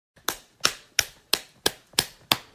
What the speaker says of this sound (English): But then he hears some weird clapping sounds in the bathroom.